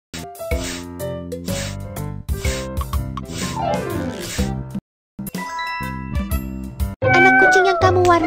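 A cartoonish kitten meow rings out over bright, tinkly music in a children's animal colouring game, followed by a higher chiming flourish at the end.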